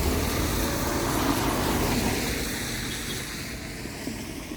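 A motorcycle engine idles or runs on a rainy ride through the hills of Don Salvador Benedicto, a steady low drone with rushing air and broadband noise that eases off slightly toward the end.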